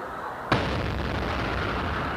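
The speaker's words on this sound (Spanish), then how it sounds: "las explosiones ocurridas en el Maratón de Boston" A sudden loud blast from a bombing at the Boston Marathon bursts out after a moment of quiet, followed by a sustained rumbling roar that fills the rest of the clip.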